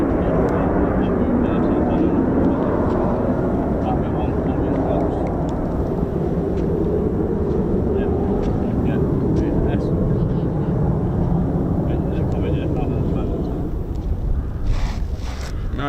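An RAF Eurofighter Typhoon FGR4 jet at RAF Coningsby, heard as a steady, loud, broad roar that holds for the whole stretch, with wind buffeting the microphone.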